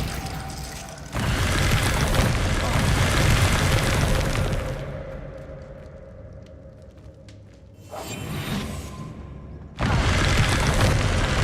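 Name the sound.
Glacius spell being cast in the video game Hogwarts Legacy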